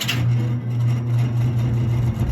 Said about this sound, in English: Let's see if we can get that GE startup sound